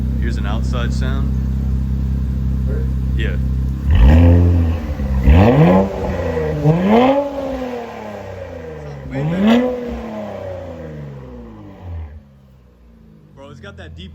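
An Infiniti Q60 Red Sport with catless downpipes revs hard in several loud bursts over a deep, rumbling exhaust idle, heard from outside, with a voice speaking briefly.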